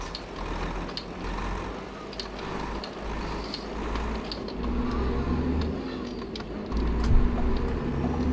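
Renault Premium tractor unit's diesel engine idling steadily, a low continuous rumble with a faint rise near the end, close by and alone with no talk.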